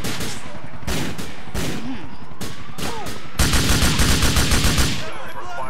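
Bursts of gunfire from a gun in Grand Theft Auto 4, with scattered single shots early on and then a loud, rapid automatic volley near the end, all set against steady game background noise.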